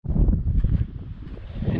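Low, blustery wind rumble buffets the microphone, steady with gusty swells and no voices.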